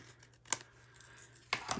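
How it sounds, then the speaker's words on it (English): Scissors snip the overhanging edge of a layered card-stock thank-you card, two or three quiet, close, crisp cuts with faint paper rustling between them. "If there's any overhang, you can grab your scissors and just even that up a little bit."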